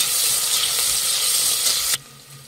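Sliced onions fry with fennel seeds in a hot pan for soya biryani, giving a steady, close sizzle that cuts off abruptly near the end and drops to a faint hiss.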